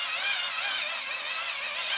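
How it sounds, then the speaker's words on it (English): A wind-up lantern being cranked gives off a steady, dense high-pitched whirring hiss that stays loud and even throughout, with no voices. "Yeah, that is the noise of the wind up lantern."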